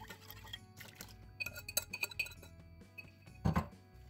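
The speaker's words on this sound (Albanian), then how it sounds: "Bashkojmë të gjithë përbërësit në tenxhere." Metal pot and utensils clink and knock as milk and sugar are combined in a pot for a quick, low-cost sutliash (rice pudding), a run of close sharp clatters with a louder bang near the end, no talking.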